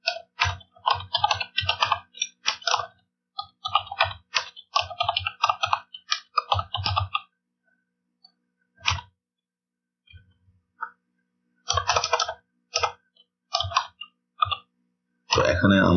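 Typing HTML code on a computer keyboard: fast bursts of crisp, close key clicks, separated by pauses and followed by scattered single taps.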